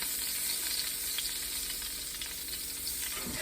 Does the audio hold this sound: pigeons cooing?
no